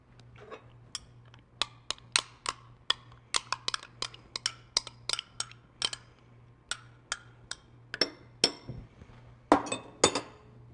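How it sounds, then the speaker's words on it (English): Greek yogurt is stirred in a glass bowl, a close series of bright clinks and taps from the utensil striking the glass, irregular and quick, over a faint low hum, without talk. "So I'm going to stir together 1 cup of non-fat"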